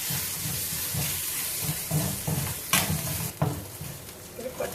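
Spices and curry leaves sautéing in a pan while preparing green pea sundal, a steady close sizzle with a few louder crackles and stirring scrapes, no voices.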